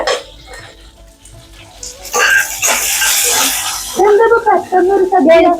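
Onions dropped into a hot pan for a sadhya dish burst into a loud, hissing sizzle midway, while someone talks before and after it.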